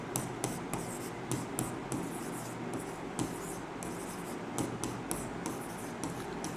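Chalk or pen writing out a triangle-area formula on a board during a maths lesson, with a steady run of short scratchy strokes and taps, close and fairly quiet, with no talking.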